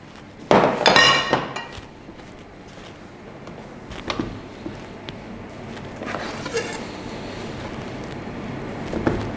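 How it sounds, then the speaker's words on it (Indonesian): Knife cutting tempe and tofu for crispy batter-fried tempe mendoan, heard as a brief cluster of clinks and taps against a board or plate near the start, followed by a few sparse, quieter knocks. "kita akan potongin dulu tempe dan tahunya ya."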